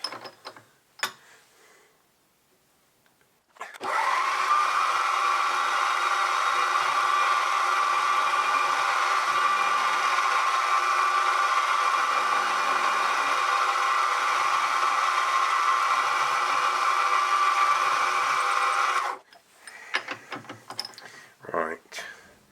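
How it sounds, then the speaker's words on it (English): Milling machine cutting the ends of a big end bearing for a miniature petrol engine, a steady whining metallic hum lasting about fifteen seconds, starting and stopping abruptly with quieter workshop clicks before and after. "so I can now mill off the ends"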